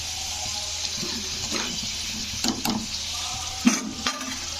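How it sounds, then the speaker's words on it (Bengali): Golden fried potatoes are scooped and strained out of hot cooking oil for a jackfruit curry, with a soft steady sizzle and hiss broken by a few sharp clinks and scrapes of the utensil against the pan. "তো আলুগুলো তেল থেকে এইভাবে ছেঁকে নিতে হবে।"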